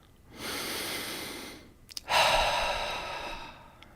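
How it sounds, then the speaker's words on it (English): A person draws two long, audible breaths, a slow steady inhale followed by a short pause with faint clicks and then a sharper, louder breath that trails off gradually; close and breathy, with no talk. "Take a deep breath."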